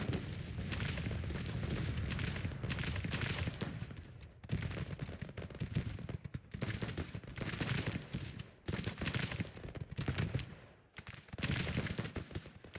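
Cannon booms and rolling rifle and musket fire from a Civil War battle in the Grand Tactician strategy game, dense and continuous in repeated bursts with short lulls.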